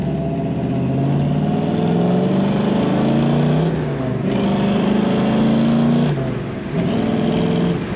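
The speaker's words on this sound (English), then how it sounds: "Great sound coming out the tailpipe of this car." A 1969 Chevrolet Camaro RS Convertible engine rumbles and revs with a deep exhaust note from the tailpipe, rising and falling several times, loud and close.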